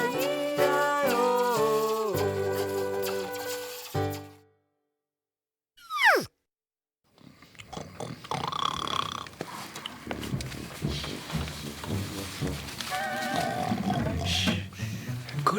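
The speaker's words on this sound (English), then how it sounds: "by adding a cup to the end, I can make it a really loud sound like a spaceship" A slinky fitted with a cup at its end gives a quick descending zap, then a long, loud, rumbling roar like a spaceship, after a short run of plucked musical tones.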